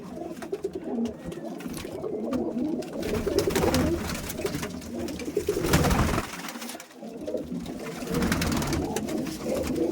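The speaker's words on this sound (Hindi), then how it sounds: "ये हमारे घर का कबूतर है" A domestic pigeon kept at home cooing close by in repeated soft, throaty phrases over a light background din, with brief pauses between calls.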